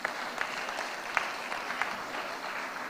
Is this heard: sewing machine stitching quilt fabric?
no